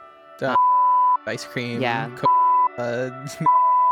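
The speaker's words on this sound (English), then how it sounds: "It's all going to be beeped in here" Loud steady censor beeps, three separate tones, cut repeatedly into a stretch of casual podcast talk, each one blanking out part of a spoken word while voices continue around them.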